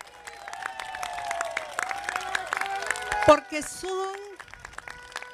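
Crowd applause at a road inauguration in Santa Bárbara, Honduras, rises loudly under a woman's amplified speech, a dense steady clapping that peaks then fades as she keeps talking.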